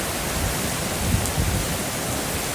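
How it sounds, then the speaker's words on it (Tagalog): Strong wind roars in a dense, steady broadband rush with low rumbling gusts buffeting close, constant and loud throughout, just before rain arrives. "Grabe, lakas ng hangin, oh."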